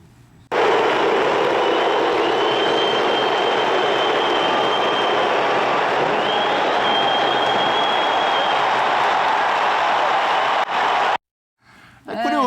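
Stadium crowd applauding as a Flamengo football player comes on, a dense, steady roar of clapping that holds loud for about ten seconds before cutting off abruptly.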